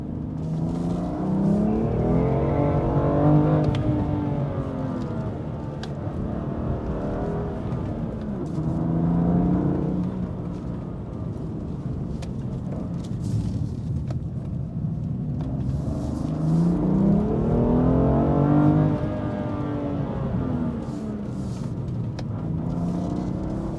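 A BMW M2 Competition (F87) drives on rally roads at night. The engine note climbs and falls in repeated rev sweeps as it accelerates and shifts through gears, with a constant rumble up close.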